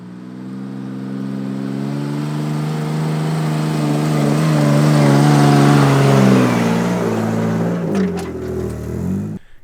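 A Barbie Jeep fitted with a dirtbike motor climbs a steep, loose hill, its small engine droning loud and close, rising in pitch under load before easing off with a few clanks at the top.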